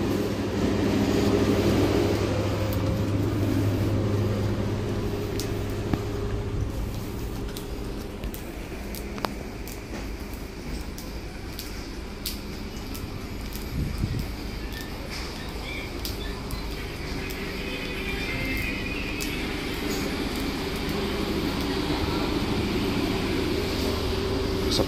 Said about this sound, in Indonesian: kereta api Mutiara Timur